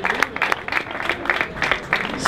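Audience applause at a Boucles du Verdon cycling race ceremony in Castellane, steady crowd clapping with rhythmic bursts, fairly loud and close, no talk over it.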